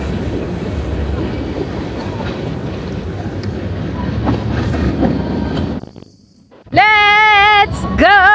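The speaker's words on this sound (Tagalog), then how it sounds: "Train." A train rolls past on rails with a loud, steady low rumble, then drops away before a sharp tonal horn-like blast sounds near the end.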